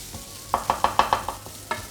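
Chicken pieces cook in a frying pan, stirred with a utensil that gives about seven evenly spaced scraping clicks over a low sizzle, close and fairly quiet.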